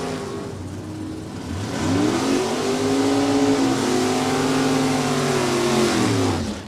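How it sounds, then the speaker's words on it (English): A classic Corvette and a classic Mustang race side by side down a drag strip at New England Dragway, engines roaring loudly and rising in pitch as they accelerate, with the sound swelling and holding near full volume. "Classic Corvette, classic Mustang. Duking it out down to the stripe."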